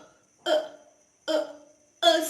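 A person's voice imitates a burp sound for phonics teaching, making three short, abrupt bursts separated by brief silences.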